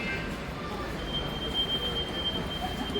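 A Pune Metro train running, with a steady broadband rumble of wheels and motor filling the whole stretch at even loudness, plus a faint high whine on top.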